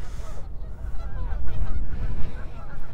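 Geese honk repeatedly in a park on the last day of winter, a steady run of calls over low wind rumble, with a few faint voices in the background.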